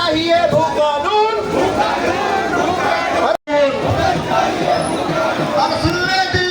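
Protesters massed at a demonstration in Haldwani, Uttarakhand, demanding a land law: loud, close crowd noise of many raised, overlapping voices and calls, continuous apart from a brief cut midway.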